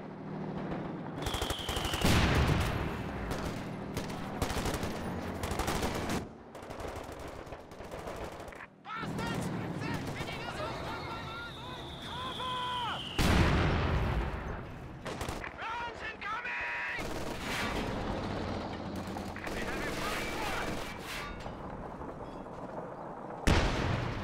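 Machine gun and rifle fire in a Company of Heroes 2 one-versus-one match, with rapid bursts, sharp shots and blasts on a busy battlefield, loud and sustained throughout under a commentator's talk.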